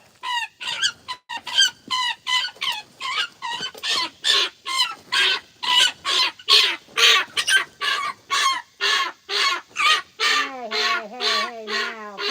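Chicken squawking and clucking loudly while being grabbed, a rapid run of harsh repeated calls close by that grows more frantic.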